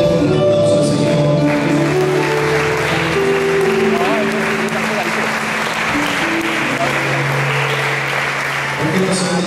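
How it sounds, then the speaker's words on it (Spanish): A church congregation applauds during a service, a long continuous spread of clapping beneath sustained organ or keyboard chords and voices, loud and steady throughout. "Demos un aplauso al Señor."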